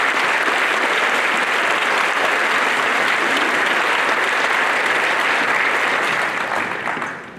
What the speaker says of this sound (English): Let's give them all a big hand.